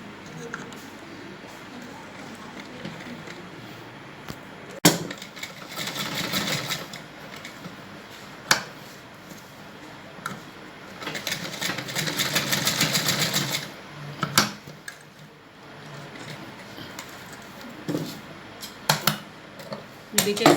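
A sewing machine stitches together the overlapped elastic joint ends of a baby bloomer, running in a few separate bursts of whirring across the span, with someone talking over it at a close, moderate level.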